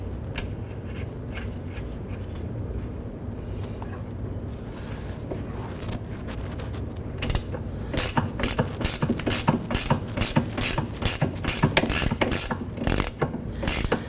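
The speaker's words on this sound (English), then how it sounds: "Now as we're tightening up the nut here, the ball and socket is spinning itself." A ratchet tightens a rear sway bar link nut on a 2006–2011 Honda Civic, giving a near, rapid run of crisp clicking pawl strokes in steady bursts after a stretch of duller mechanical handling.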